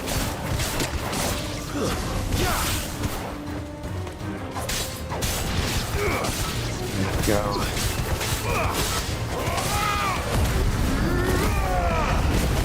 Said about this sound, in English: I forget that my controller makes noise because I always have my headphones on.